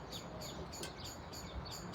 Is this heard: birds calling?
yes